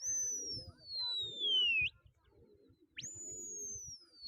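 Pigeons at a pigeon-flying contest: faint, soft coos and bird calls beneath two long, falling whistle tones. The sound is quiet and seems distant.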